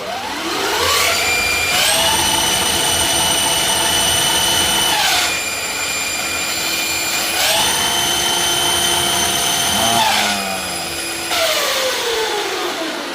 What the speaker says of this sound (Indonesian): Jadi ada turbonya nih, motor kita bikin ada turbo